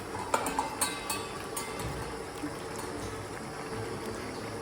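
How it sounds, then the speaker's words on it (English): Extra water is poured into a pot of potatoes cooking for kewa datshi, a faint, steady liquid rush and bubbling with a few light clinks near the start. "I need to add more water, so I'm going to add some more extra water."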